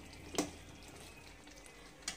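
A spoon briefly scrapes through chicken curry with potatoes in a pan: two quick, faint stirring sweeps about two seconds apart over a quiet background.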